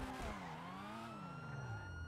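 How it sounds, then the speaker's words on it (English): A wailing police siren in a video game sweeps up and down over a low engine rumble during a race-night car chase, loud and continuous, with no talking. "Sirens, time to go."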